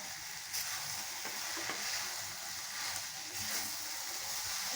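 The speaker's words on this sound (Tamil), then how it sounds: "நல்லா வெங்காயம் எல்லாம் மேலே வர மாதிரி நல்லா பெரட்டி கொடுத்துட்டு சீக்கிரம் பண்ணிடலாங்க" Tamarind rice with onions being turned over in a pan: a quiet, continuous frying sizzle with a few soft scraping strokes of a spoon, no voices.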